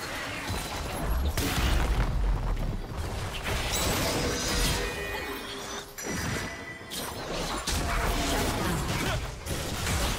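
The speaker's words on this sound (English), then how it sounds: "Blue Team's turret has been destroyed." A League of Legends turret is destroyed, with loud crashing, crumbling and mechanical creaking that roll on continuously and swell in several heavy surges, overlaid with other game effects.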